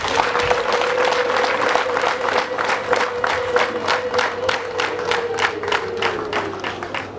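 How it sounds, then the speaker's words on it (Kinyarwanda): Wedding guests clap in a steady rhythmic beat while a long high ululation rises and holds across most of the stretch, loud and close in a lively crowd. "munyemerere mu ntiza amashyi n'impundu twakira abashyitsi baje badusanga"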